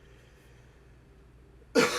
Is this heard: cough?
yes